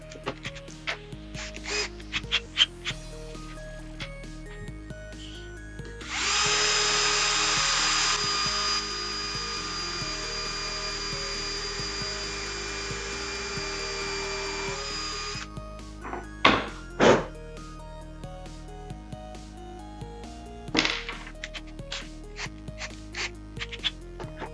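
A power screwdriver driving a screw into pre-drilled wood, with a sustained high motor whine lasting about nine seconds, surrounded by sharp clicks and knocks of handling, plus a few louder taps afterward.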